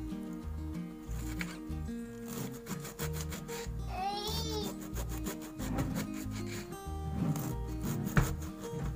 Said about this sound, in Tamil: நான் இது மாதிரி வந்து கொஞ்சம் நல்லா வந்து பொடியாக கட் பண்ணிக்கிறேன் கேபேஜை